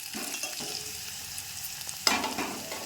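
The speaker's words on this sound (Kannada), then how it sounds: "ಉಳ್ಳಾಗಡ್ಡಿ ಎಷ್ಟು ಚೆನ್ನಾಗಿ ಬೇಯ್ತಾವೆ ನೋಡ್ರಿ" Onions fry and hiss in a hot pan for North Karnataka-style uppittu, with a steady close sizzle, spatula stirring scrapes throughout and a sharper burst of sizzling near the end; no talking.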